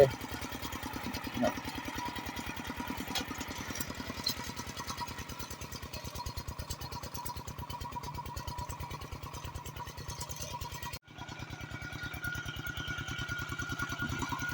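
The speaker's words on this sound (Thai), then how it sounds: "เอารถไถเหยียบนี่นะครับเหยียบแล้วก็ไถกลบลงไป" A walking tractor ploughs sunn hemp into the soil, its single engine thumping in a fast, steady, close rhythm throughout, with a brief dropout near the end before it resumes.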